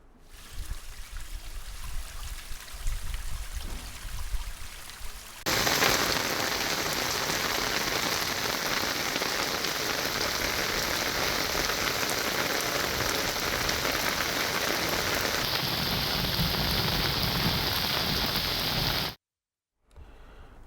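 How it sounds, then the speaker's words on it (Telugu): Heavy rain pours down in a dense, constant hiss, louder after a lighter opening stretch, with no voices, during a downpour in Hyderabad. "నిన్న హైదరాబాద్లో వర్షాలు అతలాకుతలం చేశాయి"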